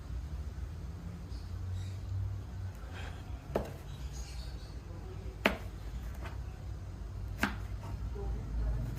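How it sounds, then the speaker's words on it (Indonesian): Knife slicing garlic, shallots and chili on a cutting board, a few sharp isolated chops spaced a second or two apart over a steady low background hum, no talking. "untuk bawang putih dan bawang merah dan cabai diiris terlebih dahulu."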